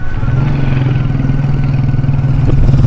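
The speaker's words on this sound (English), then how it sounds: "I'm sitting at the back of a motorbike" A motorcycle engine hums steadily up close from a rider's back seat, a constant mid-pitched drone with slight revving, no voices heard.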